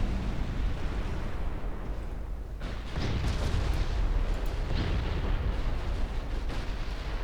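Heavy naval battle from a 1954-era warship strategy game as the warship Leviathan goes down: a dense, continuous roar of booming explosions and artillery-like blasts, loud and unbroken throughout, with a brief dip before the rumble surges again.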